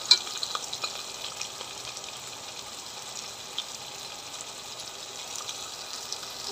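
Salted tomatoes cooking down in a pan for veg pulao give a soft, steady sizzle with faint bubbling and occasional light stirring taps, fairly quiet and without talk.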